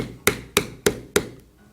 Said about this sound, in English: you can take a mallet and pound this down some